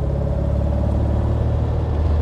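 A 1964 Porsche 356 SC Cabriolet with its rear-mounted engine pulls away under acceleration, producing a steady, loud low rumble with a constant drone and no voices.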